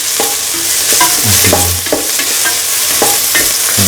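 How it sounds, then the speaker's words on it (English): Onions sautéing in a pan for a beef and bottle gourd stew, loud close sizzling with repeated spatula scrapes and stirring clatter throughout, no voices. "saute the onions"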